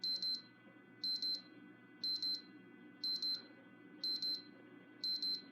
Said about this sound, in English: Alarm wristwatch.